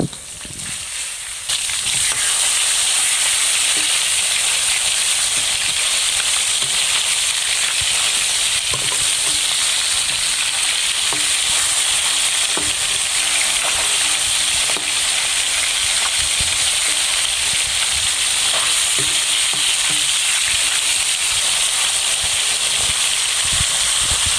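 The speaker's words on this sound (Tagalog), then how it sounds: "At dahil nga mainit na ang mantika, ay nag na ako magprito." Red snapper fish heads fry in hot oil, giving a loud, continuous sizzle and hiss that starts abruptly as the fish goes in and then holds steady with faint crackles and pops.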